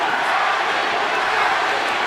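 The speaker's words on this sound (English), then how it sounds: "The crowd going for Manny Pacquiao" Large arena crowd at a Manny Pacquiao versus Tim Bradley boxing match roars continuously in the final seconds of a round, a dense, loud, steady wash of cheering voices.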